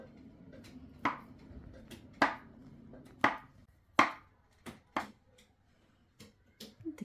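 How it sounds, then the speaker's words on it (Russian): A knife cuts dough for lazy vareniki sharply several times on a board, distinct cuts spaced about a second apart, close and clear. "И ножом нарезаем либо прямо, либо можно немножечко навскосы."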